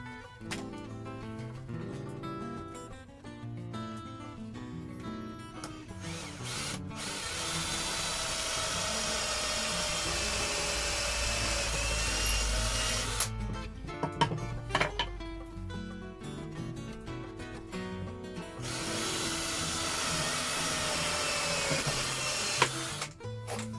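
Cordless battery drill, used without a chuck key, boring screw holes in a copper name plaque; loud whining bursts stop and start several times, with short pauses between runs and no talking.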